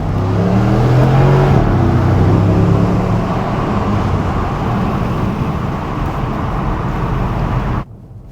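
A Porsche Cayenne V8 twin turbo (958.2) pulls hard in first gear, a loud close engine roar rising in pitch over the first few seconds, then a steady road drone until an abrupt cut.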